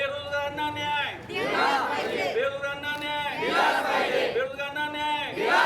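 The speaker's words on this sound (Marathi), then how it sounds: "यावेळी घोषणा सुद्धा देण्यात आल्या।" Crowd of protesting trainees chanting slogans in rhythmic unison, a leader's call answered by the group in regular loud waves about once a second.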